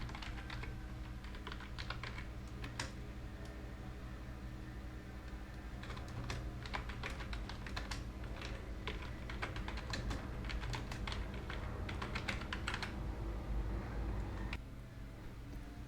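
Quiet keystrokes on a computer keyboard, irregular clusters of soft clicks over steady low room hum, with a short pause before another run of typing.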